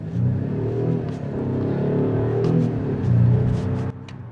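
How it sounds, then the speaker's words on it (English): A Volvo S60 Recharge pulls away from a standstill under hard acceleration, a steady low drive rumble swelling and holding close and loud for several seconds before easing off. "Wow, this car does go when you want it to. The acceleration is lovely in this car."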